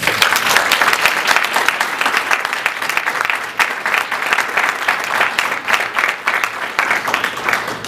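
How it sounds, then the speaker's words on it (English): An audience applauds panelists at a panel discussion, steady dense clapping filling the room throughout, with no talk over it. "Please give our panelists a round of applause"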